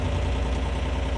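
The diesel engine of a CFG KU45 mini excavator runs with a loud, steady low rumble and throbbing vibration, heard close up with no talking.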